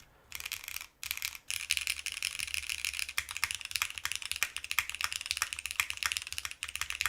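Close, rapid keystrokes on a Cloudnine R2 mechanical keyboard fitted with a PP plate, a dense clacking run after a short quiet start.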